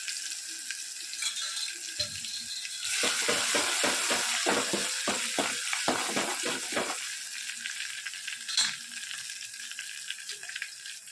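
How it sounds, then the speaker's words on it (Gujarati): Cumin seeds, ginger and garlic crackle and sizzle in hot oil in a pan, a burst of sharp popping spatters rising after a few seconds, then settling into steady frying hiss. "હવે જીરું પણ નાખીશું. જીરું નાખવાનું ભૂલી ગયું છું. સાથે સાથે જીરું પણ તતરી જાય."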